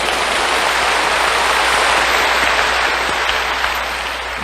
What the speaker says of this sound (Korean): 예수님 십자가 바라보고 박수를 한번 치십시오.